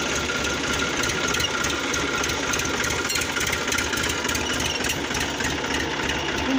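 A tractor engine runs steadily during a heavy-rain sorghum harvest, a continuous mid-pitched rumble with a busy mechanical rattle, loud and close throughout with no pauses.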